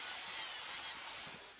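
A hand saw makes straight cuts in wood with a brief, faint, continuous rasping stroke.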